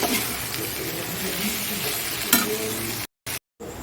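Potatoes frying in a pan with a continuous close sizzle and a sharp stir or scrape partway through, the sound briefly cutting out near the end.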